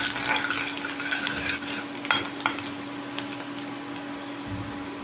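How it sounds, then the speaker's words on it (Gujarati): Cumin, garlic and asafoetida sputter and fry in hot oil as a spoon stirs them, a continuous close sizzle broken by a few sharp clicks of the utensil against the pan, with no speech. "થોડું જીરું એડ કરીશું જીરુંને તતડવા દઈશું લસણ એડ કરીશું હિંગ એડ કરીશું હલાવી લઈશું"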